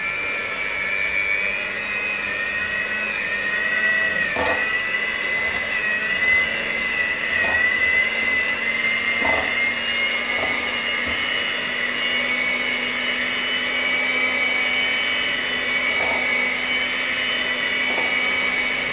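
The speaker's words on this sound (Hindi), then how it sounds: "मैं इसको बीटर से बीट करूंगी" A high-pitched electric beater motor whines steadily throughout, with occasional brief clicks and knocks, whipping cream in a bowl.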